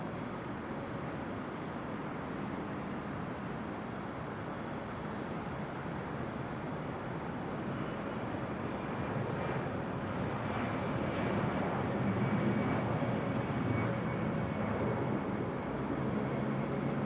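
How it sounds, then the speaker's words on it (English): An Airbus A330 bound for Barcelona takes off from the south side at LAX, its jet engines making a steady, distant broadband roar that swells slowly toward the end. "the A330 heading back to Barcelona, heading to the south side for a departure."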